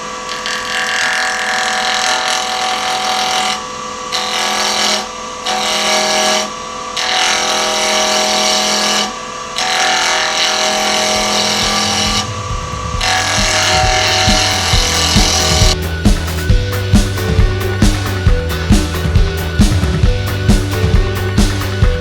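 Wood spinning on a lathe while a 3/8 bowl gouge cuts it. A loud, sustained tonal whir breaks off several times, then gives way to a rhythmic series of regular knocking cuts.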